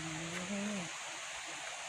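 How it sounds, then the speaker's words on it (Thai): Water from a stream flows steadily near a resort cabin in a misty mountain setting, a soft continuous wash under a brief hum of voice at the start. "ได้ยินเสียงน้ำไหลไป"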